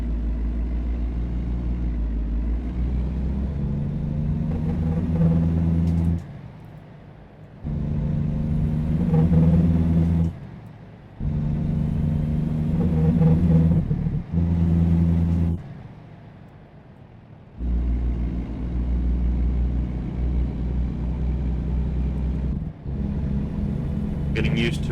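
An 18-gear truck in American Truck Simulator rumbles with a deep, steady engine drone that drops off briefly several times, as if during gear shifts, then picks back up.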